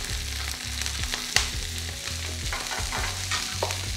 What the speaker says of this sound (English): So here we have our pan, nice and hot. A little bit of oil on the bottom of the pan. We just add the Brussels sprouts.